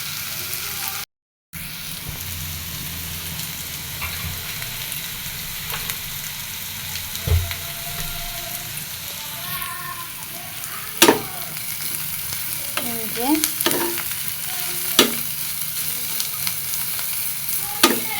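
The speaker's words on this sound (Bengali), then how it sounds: "আমরা ভালো করে ভাজা ভাজা করে নিব" Onions sizzle steadily in a hot pan while a utensil scrapes and stirs them in occasional sharp knocks, with brief speech and kitchen clatter around the frying.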